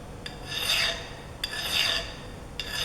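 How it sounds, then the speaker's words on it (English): Three rasping strokes of a smooth file cutting a slight 45-degree chamfer on a metal edge, each forward push separated by a short pause as the file is lifted, close and clear with no talk. "Lifting the file after every stroke."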